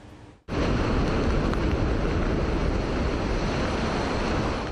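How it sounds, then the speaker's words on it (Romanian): Strong seaside wind, about 30 km/h, roars across the microphone in a dense, steady rush, with surf-like noise underneath after a brief quiet start. "vântul care a suflat cu 30 de km pe oră"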